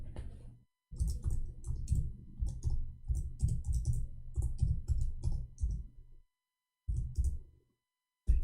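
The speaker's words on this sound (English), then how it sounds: "I'm typing in English." Rapid clattering keystrokes on a computer keyboard, typed in uneven bursts with brief pauses, close and fairly loud against near silence.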